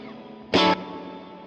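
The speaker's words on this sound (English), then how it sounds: "A completely new, weird, squonky reverb sound" A short, distorted burst processed through a Zoom Studio 1204 stereo effects unit with a weird, squonky reverb, a loud blast lasting a fraction of a second over a low background hum.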